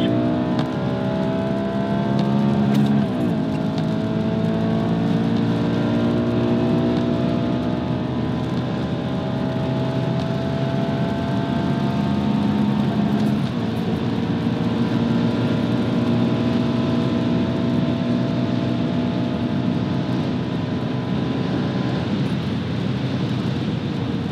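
Audi RS4 B7 V8 with over 391,000 km accelerating hard from third gear, heard from inside as a loud, rising engine howl that climbs through the revs, drops briefly at two upshifts and climbs again.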